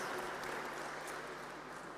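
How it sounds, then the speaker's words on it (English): Faint, steady applause from an audience at a climate change challenge grand finale, a dense patter of clapping that holds evenly for the full two seconds, sounding somewhat distant. "A round of applause, please."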